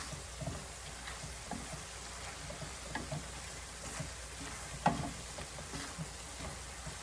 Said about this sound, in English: The vegetables look like they're just about finished. I'm going to give them a little stir.